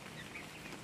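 Chickens in a farm poultry coop give off soft, low clucks, faint and slightly distant, with no voices over them.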